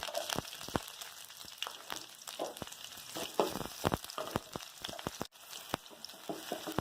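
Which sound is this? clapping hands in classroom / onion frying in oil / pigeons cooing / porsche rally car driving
onion frying in oil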